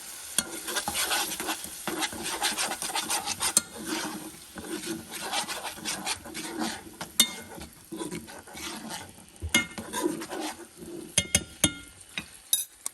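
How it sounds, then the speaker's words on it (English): A spoon stirs tomato sauce around a cooking pot in continuous, fairly loud scraping strokes with occasional metallic clinks. No one speaks. "Continue to mix around."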